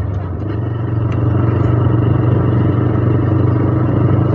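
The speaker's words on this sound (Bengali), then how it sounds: "সাউন্ডটা অনেক লাউড, মনে হয় যে কোনো একজস্ট লাগানো হয়েছে" A TVS Raider motorcycle with an aftermarket exhaust idles and runs close by, a steady, loud, throaty engine drone with a deep low thrum and no speech.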